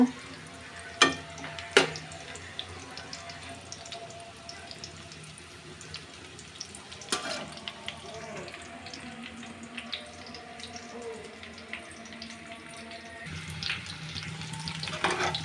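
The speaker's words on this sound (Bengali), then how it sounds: "এই যে ফুলকপি ওগুলো ভাজা হয়ে গেছে" Cauliflower florets fry in hot oil in a pan, a steady low sizzle running throughout, with a few sharp utensil clinks near the start and again around seven seconds.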